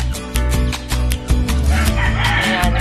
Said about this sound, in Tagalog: Yan ito yung mga manok namin dito